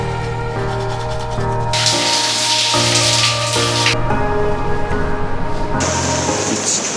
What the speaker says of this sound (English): it's raining really heavy right now